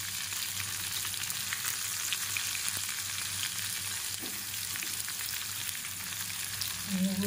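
Garlic frying in a pan over low gas, with a steady soft sizzle throughout, a few faint stirring scrapes, and one brief clink near the end. No one speaks.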